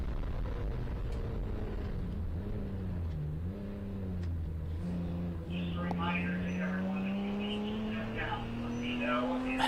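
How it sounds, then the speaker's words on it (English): Race car engine at a ChampCar endurance race on a road course, a distant droning whine rising and falling in pitch as the car works through corners, under ongoing commentary. "Yeah, we've got some engine sound."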